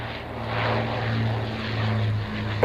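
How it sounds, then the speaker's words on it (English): The Battle of Britain Memorial Flight's Avro Lancaster bomber makes a final pass over Duxford, its propeller engines a steady, droning roar with a low throb, loud and continuous with no voices. "this last pass of the Lancaster"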